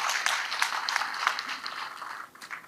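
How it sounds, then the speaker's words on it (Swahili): A crowd at a public security forum in Siaya County claps for the Cabinet Secretary, sustained applause of many hands that swells and then tapers off toward the end. "Makofi mazuri kwa Bwana CS."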